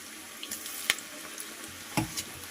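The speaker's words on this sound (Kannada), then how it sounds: "ನೋಡ್ತಾ ಇರ್ಬೋದು ಈ ರೀತಿ ಫ್ರೈ ಮಾಡ್ಕೋಬೇಕು." Rava mosaru bonda fry in hot oil with a faint, steady sizzle broken by a few sharper pops and crackles.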